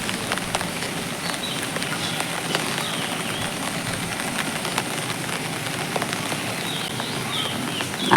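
Steady rain falling on a rooftop garden of potted plants and flowers, a continuous dense patter of drops with scattered sharper ticks, close and even throughout.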